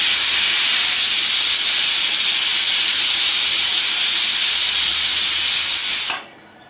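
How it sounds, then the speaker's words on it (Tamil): A pot of water comes to a hard boil while kozhukattai are being cooked, giving a loud, continuous steam hiss that runs steadily for about six seconds and then cuts off abruptly. "நல்லா கொதி வந்துட்டுருக்கு."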